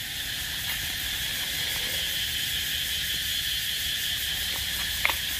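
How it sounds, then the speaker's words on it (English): Summer insects chirp continuously in the background, a faint, steady high-pitched trill with no voices. "That's the sound of the insect, the sound of the summer."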